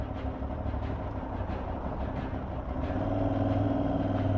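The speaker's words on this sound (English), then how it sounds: "It's got a nice throaty engine," Throaty engine of an Aprilia Tuareg 660 adventure motorcycle ridden in urban mode, a steady rumbling drone that swells and grows slightly louder in the last second and a half, with wind noise mixed in.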